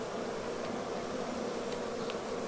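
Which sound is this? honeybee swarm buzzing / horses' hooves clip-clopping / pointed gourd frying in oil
honeybee swarm buzzing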